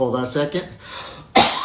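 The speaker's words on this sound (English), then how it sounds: "I'm beginning to cough" A man's short cough bursts out between bits of his own talk, one sharp broadband burst near the end after a few spoken words, close and fairly loud.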